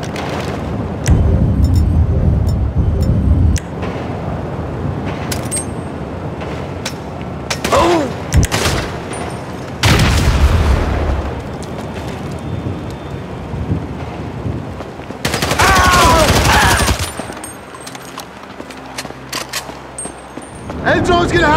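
Gunfire crackles through a shootout in GTA V, with loud bursts and broadband blasts recurring across the scene amid wind-like rumble, clatter and shouted in-game voices.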